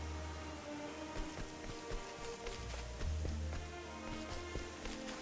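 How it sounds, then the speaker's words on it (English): Steady rain falls in the video game Octopath Traveler II, a continuous hiss and patter over soft music tones, with scattered louder drops throughout. "It's raining."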